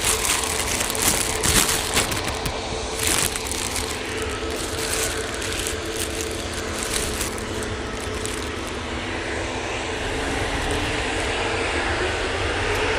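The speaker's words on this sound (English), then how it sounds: "And off this EasyJet goes." An EasyJet airliner takes off at Manchester Airport, its jet engines giving a steady, loud broadband roar that holds through the whole stretch with little change in level.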